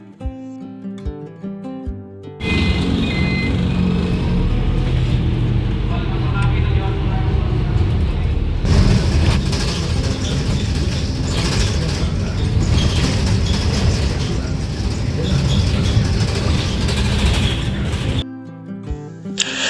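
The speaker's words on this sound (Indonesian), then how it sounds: "Kita naik, lalu bus bergerak naik ke jalur layang khusus busway." Transjakarta Koridor 13 bus travelling along the elevated busway from Tegal Mampang toward Ciledug, a steady loud engine and road rumble with rattling cabin noise. It runs continuously for most of the stretch, and faint music sounds briefly at the start and end.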